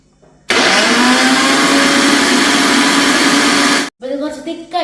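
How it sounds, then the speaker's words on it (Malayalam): A kitchen mixer-blender whirring loudly as it blends milk for a cooling summer juice, a steady high-pitched motor drone running about three and a half seconds before cutting off, followed by brief clatter. "നമുക്ക് നല്ല പാല് അടിച്ചെടുക്കാം മിക്സിയിൽ."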